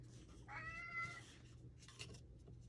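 A pet cat meows indoors in the morning, two soft drawn-out calls separated by a pause, over a low steady hum.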